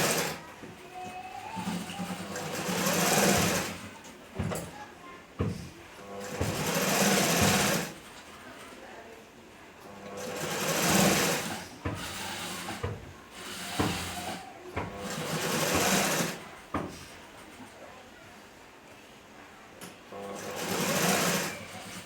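A sewing machine stitching a kunchigi, a traditional hooded garment, runs in repeated bursts of steady whirring, each lasting a few seconds with short pauses between, close and fairly loud throughout.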